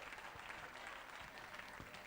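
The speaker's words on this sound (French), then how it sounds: "Applaudissez le Seigneur Jésus. Applaudissez-moi le roi des rois." Church congregation clapping in praise during a sermon, steady brief applause heard faintly and at a distance.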